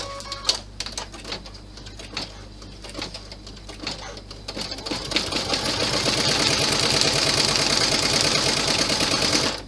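A sewing machine stitching down felt. A few faint clicks and taps are followed by the motor starting up at about five seconds and running in a steady, fast, loud whirring stitch until the end.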